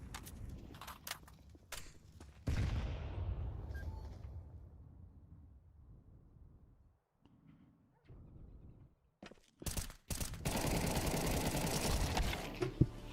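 Gunfire in the video game Counter-Strike 2, several sharp bursts and single shots early, then a quieter stretch before a dense, loud barrage of rapid shots.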